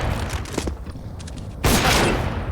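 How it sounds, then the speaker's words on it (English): Glock pistol fire from a professional Counter-Strike match: a few quick muffled pops in a noisy in-game mix, then a loud burst of gunfire near the end. "Oh, Wolfie has been dinked, but it's just a Glock, so 62 HP remains."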